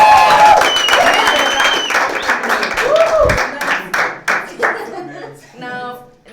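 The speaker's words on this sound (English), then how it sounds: "You didn't cheer now for Nick." Students break into cheers and clapping for Nick Hurley, a new maths teacher, in a classroom: a dense burst of hand claps and whoops that thins out and fades within a few seconds, with voices mixed in.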